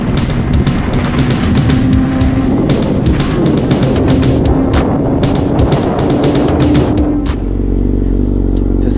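A Suzuki GSX-R 1000 motorcycle with an M4 MC-36 full exhaust being ridden, its loud engine rising and falling through repeated rev bursts and gear changes before easing off into a lower drone at the end.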